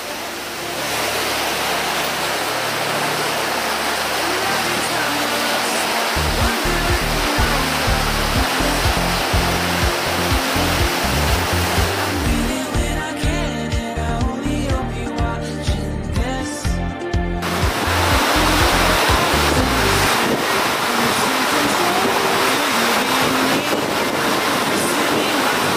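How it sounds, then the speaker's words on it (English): Rough sea and strong wind aboard the sailing boat Lost Girl off South Africa, a loud continuous roar of wind and rushing water with rhythmic low thumps of the hull through the middle. "the sea conditions had picked up quite substantially. The wind was starting to blow quite strong"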